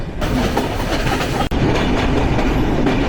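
At a railway station during the Eid rush, the Silk City Express rolls past with a steady, loud clickety-clack of wheels on rails and one brief sharp break partway through.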